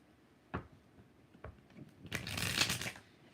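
Tarot cards are shuffled by hand in a quiet room: a couple of isolated riffles, then a longer, louder burst of rapid flicking and sliding cards, close to the microphone.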